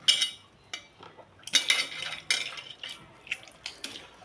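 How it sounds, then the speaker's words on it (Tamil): Tamarind is dissolved by hand in water in a home kitchen, with close, intermittent wet splashes and squelches mixed with light clinks against the vessel in irregular bursts, and no one talking. "இந்த புளி கரைச்சிக்கல நல்லா கரைச்சி விட்டுக்கணும்"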